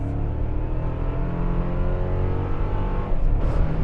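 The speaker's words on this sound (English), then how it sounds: "Let's do some braking here. Braking test." A 2024 Toyota Tacoma TRD Off-Road pickup drives under braking on the road, a loud, steady low engine and road rumble heard from inside, rising slightly near the end.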